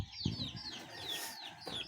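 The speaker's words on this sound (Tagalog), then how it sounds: "Ayan po ang ating manukan." Chickens in a backyard coop give soft, repeated clucks and short chirping calls, close by and fairly quiet, with light rustling beneath.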